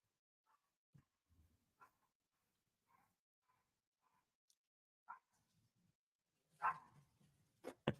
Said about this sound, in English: You could probably hear my dogs or my one dog.